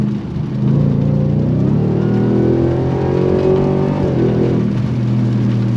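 A supercharged Ram TRX or Ford Raptor R truck engine roars at full throttle, its pitch climbing and falling through a gear change, loud and close with a whining supercharger overtone.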